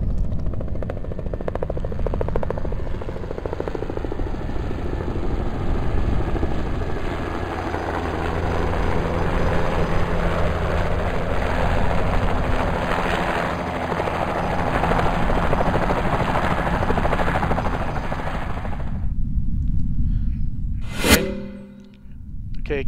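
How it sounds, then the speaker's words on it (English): A video game life-flight medical helicopter's steady rotor roar and engine drone fill the scene continuously, loud and close, ending with a sudden cutoff and a metallic clang. "Life helicopter is going to come in."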